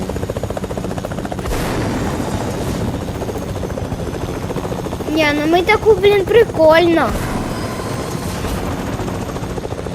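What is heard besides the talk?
helicopter in the video game Fortnite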